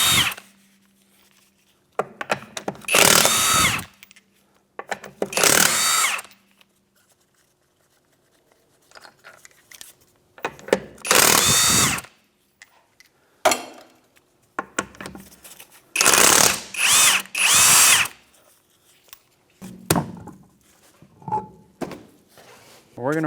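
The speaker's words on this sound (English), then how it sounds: "With a 21mm socket, we're going to remove the rear tire." A power tool fitted with a 21mm socket spins off the rear wheel of a 2012 Hyundai Elantra in a garage, firing in several loud, short bursts separated by quiet gaps, with brief talk between some bursts.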